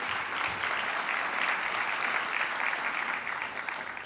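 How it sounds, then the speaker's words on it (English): Audience applause for a team on stage at a live forum event: steady, dense clapping from a sizeable crowd, holding evenly and easing off slightly toward the end. "A big round of applause for this team."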